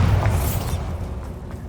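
Bombarda blasting spell exploding in the Hogwarts Legacy video game: a single deep, booming burst that rumbles loudly up front and then fades away, with no voices.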